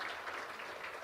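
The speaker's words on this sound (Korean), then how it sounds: "여러분 박수 한번 부탁드리겠습니다" Applause from a forum audience, a soft, distant patter of many hands clapping in a steady wash, fairly faint and brief.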